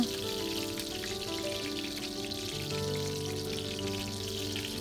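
Pork schnitzel frying in a shallow amount of oil, German-style, with a steady, even sizzle and crackle that holds without a break and no one talking.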